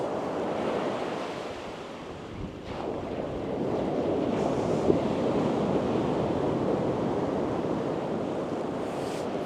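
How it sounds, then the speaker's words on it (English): Surf pounds steadily on a Northumberland beach, a broad continuous roar of breaking waves with gusting wind buffeting the microphone and no voices. "That surf just seems to be pounding in a little bit now."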